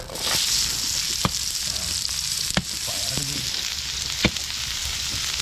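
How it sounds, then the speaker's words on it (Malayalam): Sliced onions frying in hot oil in a pan for a clam roast, a loud continuous sizzle with occasional sharp clicks of a utensil against the pan, no voices. "കക്ക റോസ്റ്റ് നമ്മൾ എൻ്റെ സവാള ഇട്ട് കൊടുക്കുവാണ് കേട്ടോ"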